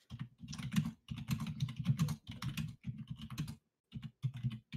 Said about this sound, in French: Alors on entend pas mal ton clavier.